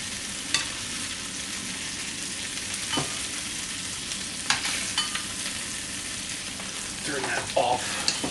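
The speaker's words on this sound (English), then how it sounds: "let's dip them into the wok and see what happens" Chicken wings frying in a wok, a loud continuous sizzle with occasional pops and stirring clicks, steady and close throughout.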